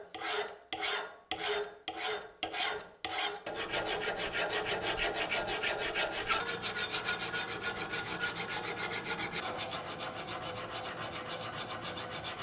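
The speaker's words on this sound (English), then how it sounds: "I choose to use files for this, since I really want to be careful not to accidentally grind too far." Hand files work the bevels of steel scissor blades, first in five separate rasping strokes, then in a fast, continuous rhythm of scraping strokes, close and steady.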